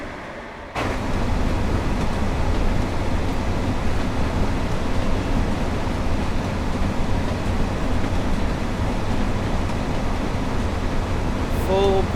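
A Class 142 Pacer diesel multiple unit in a train simulator game runs steadily at speed, a loud continuous rumble of wheels and engine on the rails that starts abruptly and holds throughout.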